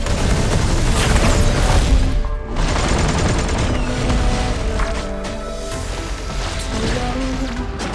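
Artillery bombardment in the video game Eversoul: a loud, continuous barrage of heavy booms and rumbling blasts that breaks off briefly, then rolls on, with a tonal, musical layer running underneath.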